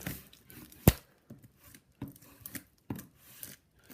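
A blade scrapes and slices through cardboard as a box for a 1/16 scale 4WD electric racing buggy is cut open. There is one sharp crack, then short, irregular cutting strokes, close and fairly quiet.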